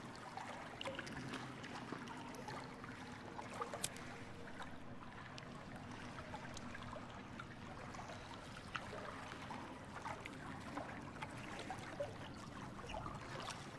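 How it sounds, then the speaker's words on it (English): Faint, continuous trickle and gurgle of flowing water in a forest, steady and unbroken throughout with occasional small splashes, no voices present. "Now that's just water."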